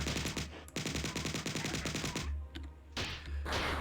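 Rapid automatic gunfire sounds from a weapon in the retro shooter Marathon. A fast, steady stream of shots runs for about two seconds, then a pause, then further bursts and blasts, close and loud.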